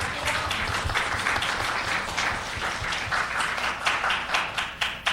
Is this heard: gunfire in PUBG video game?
no